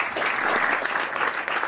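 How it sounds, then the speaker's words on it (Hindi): Audience at a Hindi poetry recital, a kavi sammelan, breaks into steady, dense applause that fills the whole moment, close and fairly loud with no voices over it. "जोरदार तालियां बजाएं"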